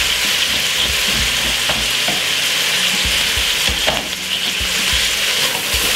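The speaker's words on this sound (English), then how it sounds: "Give that quick stir." Cabbage and tomato frying in a pan with a steady loud sizzle close by, while a utensil stirs and scrapes through the vegetables.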